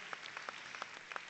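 Audience applause at an anniversary dance gala, a soft, steady patter of clapping with scattered sharper individual claps, heard from a distance and fairly faint throughout.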